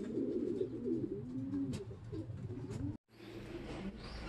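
A pigeon coos close by in a loft, a low warbling call repeated in a throaty rhythm, broken by a brief cut partway through.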